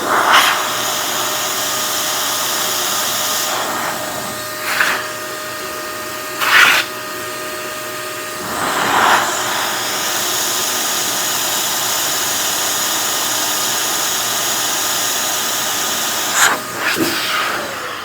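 An XPOWER canister blower runs on its high setting, a loud, steady whooshing whine held throughout with a few brief bumps and fluctuations in airflow.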